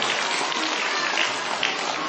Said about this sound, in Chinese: 这边我们是不是给准备的老师跟小朋友掌声感谢他们？